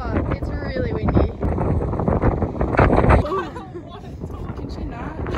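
Strong wind buffets the microphone at Granite Skywalk atop Granite Rock, a loud continuous low roar with gusts swelling and easing throughout, while people talk and exclaim over it.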